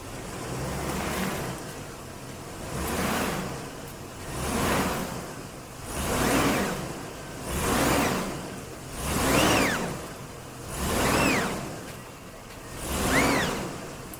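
A two-wheel-drive Chevrolet Suburban strains to pull a 1972 Camaro barn find left in neutral, its engine surging in repeated swells about every two seconds, moderately distant and without talk.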